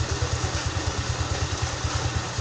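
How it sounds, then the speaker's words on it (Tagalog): A Rusi motorcycle engine, previously submerged in floodwater, idles steadily up close, its low thudding pulse repeating evenly with no talking. "Napakaganda pa rin ang tunog ng makina."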